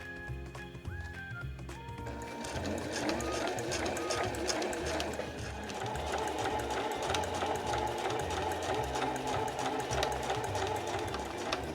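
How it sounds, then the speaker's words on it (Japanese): A sewing machine stitches around the corner of a fabric pouch, with a steady rapid mechanical rattle that starts after a brief pause and then runs continuously, close and fairly loud. "際まで来たら押さえを上げて角を縫っていきます"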